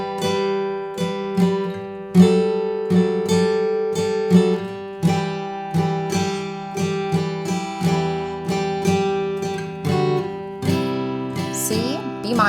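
Guitar playing the chord progression of a song intro, slow steady strums ringing clearly and close, one after another for several bars, with no talking.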